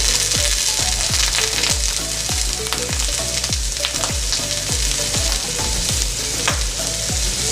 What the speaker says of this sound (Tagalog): Ngayon po ipapry ko yung patatas and carrots. Unahin ko po muna yung carrots.